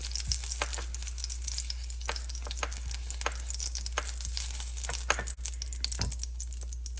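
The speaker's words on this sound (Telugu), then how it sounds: "మనకి పచ్చిమిరపకాయలు వేగిపోయాయి" Green chillies sizzle and fry in hot oil in a pan, a steady close crackle broken by frequent sharp pops and spits, over a low constant hum.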